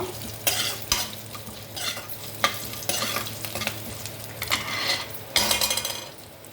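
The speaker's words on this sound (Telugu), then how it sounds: "పచ్చిమిర్చి, మినప్పప్పు, శనగపప్పు వేసి కొంచెం వేయించుకోవాలి" Green chillies, urad dal and chana dal frying in hot oil in a pan for a rice pickle dish, a steady sizzle under repeated scraping stirs and light metallic clinks of a spoon against the pan.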